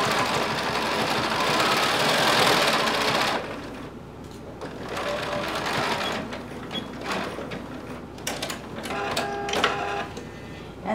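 A sewing machine stitches the side seam of a DIY top, running in a loud, steady whirring burst for about three seconds, then continuing more quietly with uneven mechanical clatter and ticks.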